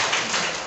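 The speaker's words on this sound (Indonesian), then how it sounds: "kita boleh tepuk tangan untuk Bukina" A brief burst of audience clapping in a school seminar hall, a dense, steady patter of many hands heard only for a moment.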